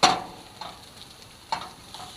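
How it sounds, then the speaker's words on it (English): Chicken warming in a pan inside a camper van gives a soft, steady sizzle, broken by a few brief scraping stirs or clinks near the start and middle. "Warming up some chicken for some wraps."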